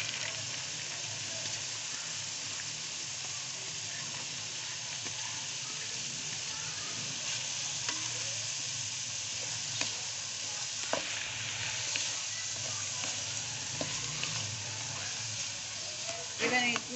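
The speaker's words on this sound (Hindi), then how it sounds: "ऐसे स्पून के साथ ही मैं अब इसके अंदर सारी गाजरें ऐड कर दूंगी" Chopped carrots fry in a pan for chicken macaroni while a spoon stirs them. A steady close sizzle runs throughout, with occasional light scrapes and clinks of the spoon and no speech.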